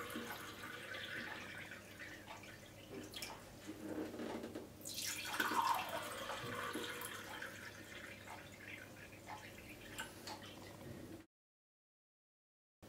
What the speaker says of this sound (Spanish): En los otros tres vasos vamos a echar agua del grifo o agua mineral de baja